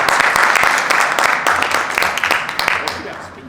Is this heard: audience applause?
yes